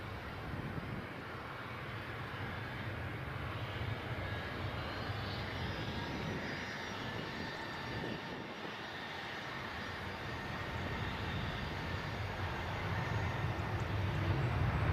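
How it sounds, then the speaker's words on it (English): An easyJet airliner arriving from Amsterdam at Edinburgh airport, its engines a steady broadband roar that holds loud throughout and swells slightly near the end, with no voices. "Just in time to see this easyJet arrive from Amsterdam"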